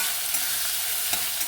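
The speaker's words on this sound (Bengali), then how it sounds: "এবার আমি এগুলো কড়াইয়ের মধ্যে দিয়ে দেবো। এবার একটু নেড়ে নেব।" Chopped tomato, green chili, garlic and onion fry in a wok, a loud close sizzle with soft spatula scrapes as they are stirred.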